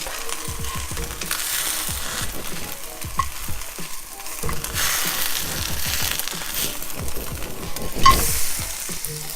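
A vegan bacon and cheese omelette sizzles and crackles steadily in a frying pan, with scraping and clattering as a spatula slides underneath and flips it.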